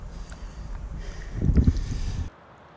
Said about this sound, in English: excuse the wind, it's windy today